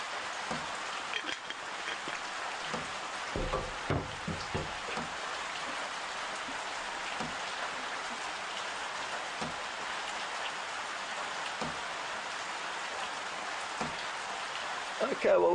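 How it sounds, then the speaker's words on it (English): Steady rain falls across the bush on a safari drive, a dense continuous hiss of drops with occasional closer patters, while a person talks faintly beneath. "this has been the first substantial rain we've had in months"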